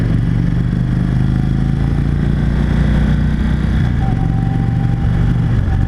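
A 2016 Indian Chief Dark Horse motorcycle with an aftermarket exhaust rumbles loudly and steadily close by, a deep throbbing exhaust note holding at a constant idle without clear revs.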